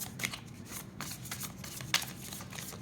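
Tarot cards being shuffled close up: a continuous run of soft riffling and flicking bursts with a sharper snap near the end, with no talking.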